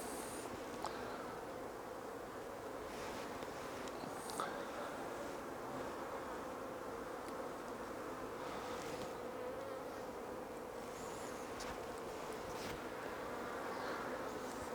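Honey bees buzzing steadily throughout a colony as a beekeeper inspects the hive, the insects storing sugar syrup ahead of winter; a dense, continuous hum near and constant with no talk.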